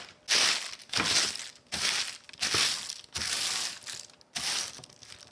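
Parchment paper is unfolded and crinkled in a kitchen while baking molasses cookies, giving about six sharp, crackly bursts close up with short pauses between them.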